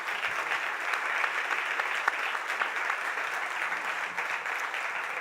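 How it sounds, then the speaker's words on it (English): Sustained applause from an audience at a startup awards ceremony welcoming a Chief Minister, dense and steady clapping throughout with no voices over it. "I think we should welcome the Honorable Chief Minister with a round of Minister has applause."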